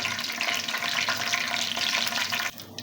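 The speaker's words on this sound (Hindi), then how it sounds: "इनको हम हल्का सा फ्राई करेंगे" Whole spices and a bay leaf fry in hot oil with a steady, dense crackling sizzle, loud and close, easing off briefly near the end.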